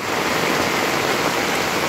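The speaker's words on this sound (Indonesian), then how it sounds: "Ini airnya seperti sungai nih." Heavy, steady rain roars close by with a dense rushing wash of floodwater, continuous and loud throughout.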